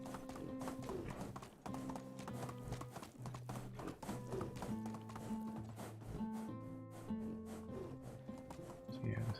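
Horse hooves clip-clop in a steady, rapid rhythm while riding in the medieval video game Medieval Dynasty, close and continuous beneath a looping musical score, with someone talking over it at times.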